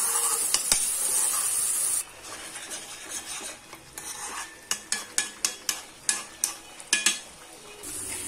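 Onions fry in oil in a pan at home, a steady hiss and sizzle giving way to a string of sharp, rhythmic scrapes and taps from a spoon stirring against the pan.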